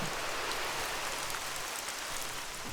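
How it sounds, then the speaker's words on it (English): Heavy monsoon-like rain in theHunter: Call of the Wild falls as a steady, dense hiss of drops, continuous and moderately loud with no talk. "Look at the rain coming down."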